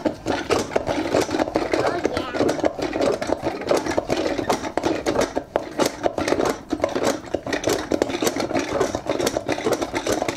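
A small egg spinner whirring steadily as it spins an Easter egg for marbled dyeing, a continuous buzzing motor hum heard up close with talking over it.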